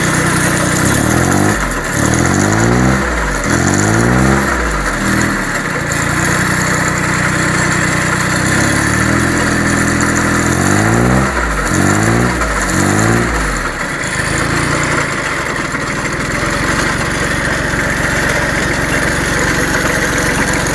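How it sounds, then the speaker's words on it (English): Diesel engine of a Bolens Iseki H1502 tractor on a snowy cold start, idling loudly up close and revved several times in rising, pulsing surges that settle back to a steady chug. "So I'm going to rev it up a little."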